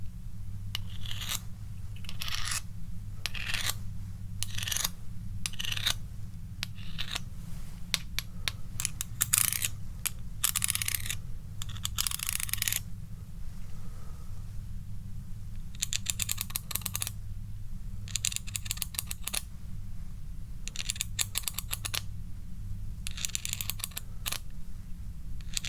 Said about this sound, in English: scrape the spoon onto the shells